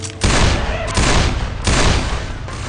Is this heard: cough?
no